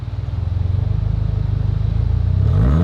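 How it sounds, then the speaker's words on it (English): A Subaru VB WRX engine with no mufflers revs up from a steady, throaty idle, the exhaust note rising and swelling loudly near the end, with no voices. "Give it a rev."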